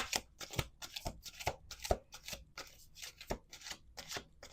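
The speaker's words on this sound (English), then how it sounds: "Let's do 2 more shuffles." Playing cards being shuffled in quick repeated riffles, a run of sharp rasping bursts about every half second, close and fairly quiet with no talking.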